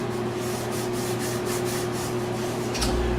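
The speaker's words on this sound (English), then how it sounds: "I'll give this a good rub once over to make sure everything's on there" Burnishing a decal onto a scale model pylon by hand, a steady close rubbing and scraping sound that continues evenly throughout with a slight surge near the end.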